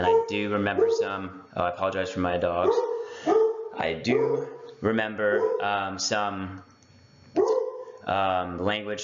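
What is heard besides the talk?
dogs barking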